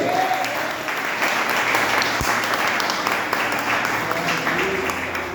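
A church congregation breaks into sustained applause during a worship service, dense steady clapping filling the room at full strength from start to finish.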